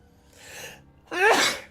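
A sneeze from a creature in a video game, a soft breathy build-up followed by a sharp, loud burst, heard alone and close.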